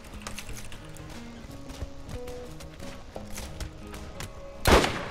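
Gunfire in the video game Borderlands, scattered sharp shots and clicks over game music, ending with one louder burst near the end, with nobody talking.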